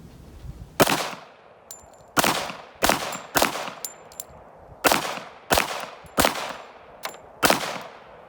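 A Ruger SR1911 pistol fires .45 ACP rounds at a shooting range: eight sharp, loud reports in an uneven slow string, some followed by a bright metallic ring.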